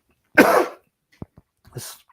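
Two harsh coughs from a man with a days-long bad cough, close to the listener, separated by a pause with a couple of small clicks, in an otherwise quiet room.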